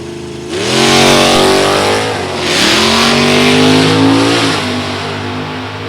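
Drag race pitting a Ford Mustang against a 1992 Chevrolet Corvette with a small block Chevy V8, loud engines launching and revving hard, pitch climbing through gear changes before easing off, close and dominant.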